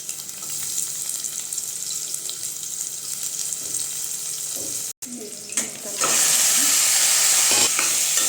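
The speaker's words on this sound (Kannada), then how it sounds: "ನಾನು ಎಣ್ಣೆ ಹಾಕ್ಬಿಟ್ಟು ಈರುಳ್ಳಿ ಹಾಕ್ತಾಯಿದ್ದೀನಿ" Onions dropped into hot oil for mutton curry, a steady frying hiss with scraping stirs, briefly interrupted, then a brighter, louder sizzle as the onions hit the oil.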